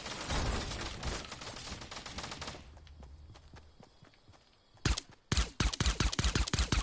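Gunfire in a battle-royale video game aimed at a supply drop: a dense burst of rapid shots, a lull of scattered quieter clicks, then another run of sharp shots, fairly loud.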